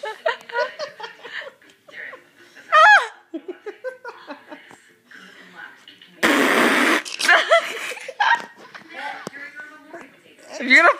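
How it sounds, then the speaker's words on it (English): A short, loud, raspy fart bursts out in the middle of a room full of people chatting and laughing, with giggles and talk carrying on around it. "If you're gonna fart, okay."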